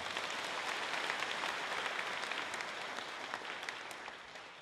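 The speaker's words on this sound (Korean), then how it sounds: "감사의 박수 다시 한번 보내주십시오." Thankful applause from a church congregation at a national elders' conference, a dense, sustained clapping that fills the hall and slowly tapers off.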